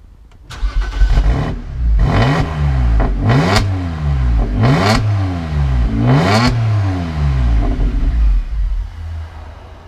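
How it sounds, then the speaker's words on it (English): BMW N54 engine, recorded close at the exhaust, starts and then revs hard five times in a row, each loud rise and fall separated by a brief drop back to a rumbling idle. "put the camera by the exhaust and maybe just give it a bit of some revs"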